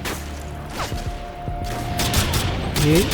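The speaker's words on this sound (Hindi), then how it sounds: "एक और फायरिंग आ रही है कहीं से" Gunfire in the video game Call of Duty Modern Warfare 2: bursts of shots and thuds over a busy game soundscape, with a mechanical clank near the end.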